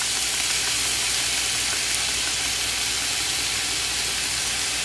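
Soy sauce sizzling in a pan of fried rice makes a loud, constant, broadband hiss that holds steady from start to finish, with no pauses.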